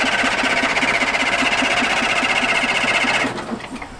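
An old engine running after its first start in over ten years, a loud, rapid, even mechanical chugging with a rattling knock, steady until it abruptly cuts off near the end, leaving quieter noise.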